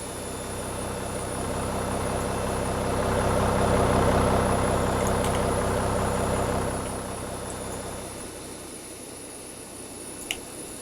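Jet engines on a simulated Boeing 737 in X-Plane 11 spool up into a broad, steady roar that swells and then settles to a lower running hum, with a couple of faint clicks.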